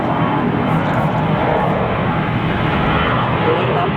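A fixed-wing airplane passes low overhead beside an airport, a loud, broad engine roar holding steady and filling the whole stretch.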